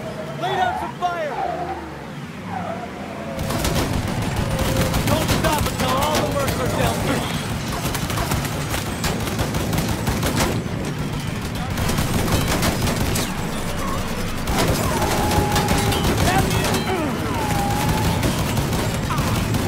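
Sustained gunfire in the Mafia III Stones Unturned DLC: dense, continuous bursts of shots rattle on for most of the stretch, loud and close, with brief lulls, after a short quieter opening.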